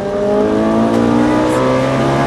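A Ferrari 458 Italia engine runs hard on the Fontange circuit, heard from inside the car as a loud, steady, tonal roar that holds its pitch without any break.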